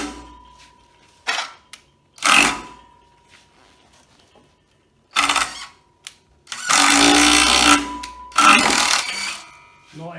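A TID18 18V cordless impact driver drives a double-thread self-tapping screw through a wood batten into a concrete wall, giving several loud bursts of rapid hammering clatter separated by pauses, the last burst long and sustained.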